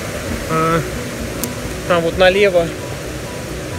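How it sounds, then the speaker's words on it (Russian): A mountain stream of clear drinking water runs in the Altai valley as a steady, broadband rushing hiss beneath someone speaking Russian close by. "здесь все чистая питьевая вода, текут ручьи"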